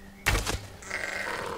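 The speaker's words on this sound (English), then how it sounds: "kill it, it's a sheep!" A sheep in The Elder Scrolls Online gives one loud, close bleat, followed by a softer, drawn-out tonal game sound.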